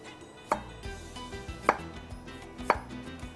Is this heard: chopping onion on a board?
yes